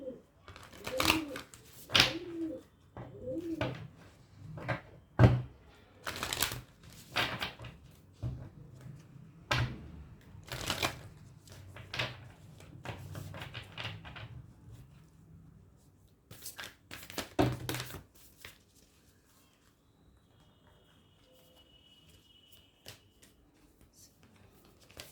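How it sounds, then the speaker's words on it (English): A Moonology oracle deck being shuffled and a single card drawn, a run of quick close papery riffles and taps over a faint voice, then a couple of later shuffles before the sound fades to near quiet. "let me pull one card for you from the Moonology deck"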